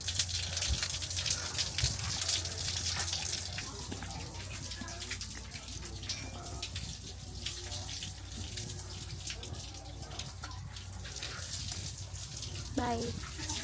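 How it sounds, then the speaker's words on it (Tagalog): Shower water runs steadily in a bathroom at a beach stay in Boracay, a continuous close hiss and splash with a short voice near the end. "Shower."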